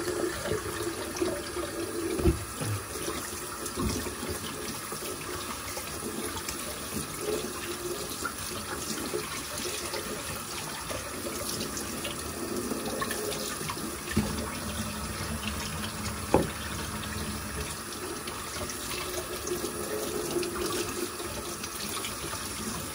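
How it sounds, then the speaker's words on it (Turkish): Tap water runs steadily into a sink while hands and avocado pits are washed under it, a continuous close splashing stream with occasional small knocks and no talking. "Önce bir elimizi yıkayalım. Sonra çekirdekleri yıkayalım."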